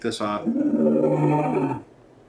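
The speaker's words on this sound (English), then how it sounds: "Like that lion roar, by the way." A lion roar sound effect, used as source material in a sound design project, sounds as one loud, sustained, rumbling growl lasting under two seconds that cuts off abruptly into near silence.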